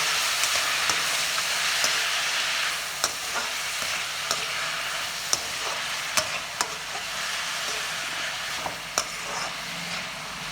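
Chopped onions fry in a pan for a mushroom curry, making a loud, constant close-up sizzle broken by scattered sharp clicks and scrapes of stirring.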